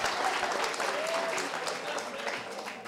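Audience applause at a seminar closing session, a steady wash of clapping from a full room that stays even throughout and fades slightly at the end.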